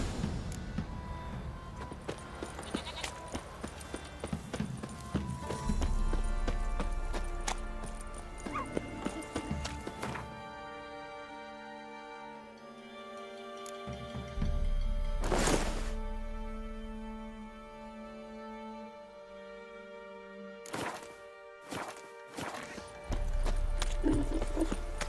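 A horse galloping in The Witcher 3: steady clip-clop hoofbeats with occasional whinnies over game ambience and music, the pace breaking and resuming a few times.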